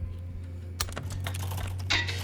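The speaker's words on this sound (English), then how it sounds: "I'm literally typing this one wrong." Rapid keystrokes on a computer keyboard during a fast typing game, a steady clatter of close clicks with a few louder bursts over a constant low hum, no voice.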